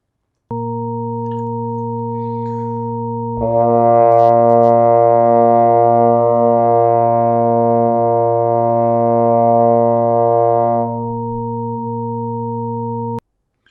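A steady electronic drone hums throughout while a trombone with a cut mute holds one long, buzzy sustained note over it for several seconds, then stops.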